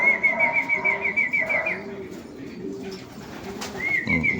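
Nearby bird calls with whistled, repeated notes alongside soft cooing, a pause in the middle, then the whistling returns.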